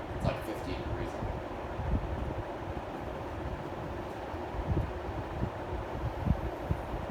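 Two Evergo 36-inch industrial ceiling fans run on high speed, giving a steady, rushing broadband whoosh with a low rumble and occasional soft thumps throughout.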